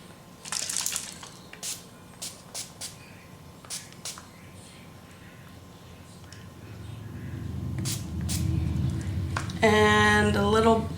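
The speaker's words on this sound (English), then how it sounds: "spray this area." Water spritzed from a spray bottle onto an altered beach-themed scrapbook page painted in blood red, heard as a short series of close, soft hissing bursts, followed by a louder, denser spray near the end.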